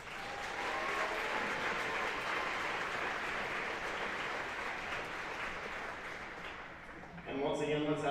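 Crowd applause and cheering fill a high school gym during senior night at a Linn-Mar boys varsity basketball game, steady and loud for about seven seconds before a voice comes over the PA system.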